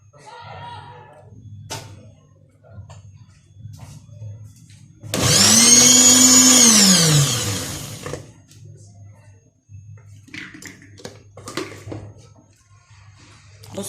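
Kitchen blender whirring loudly in a single burst of about three seconds as it blends milk and oil into homemade butter, with a quiet voice talking before and after.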